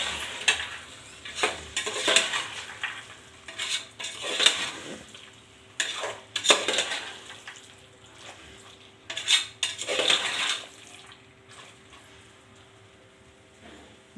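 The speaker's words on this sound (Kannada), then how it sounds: "ಹಾಕಿ ಸ್ವಲ್ಪ ಹಾಗೆ ತಿರುಗಿಸ್ಕೊಡಿ." Sprouted chickpeas are stirred in an oily pan for a chana masala gravy, a utensil scraping and clinking against the metal in a run of sharp, irregular strokes over a faint sizzle, with no talking.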